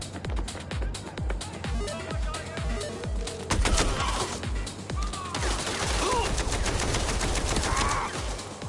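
Rapid automatic gunfire in a video game, loud bursts of repeated shots rattling throughout with overlapping explosions and effects, heavier and denser in the second half.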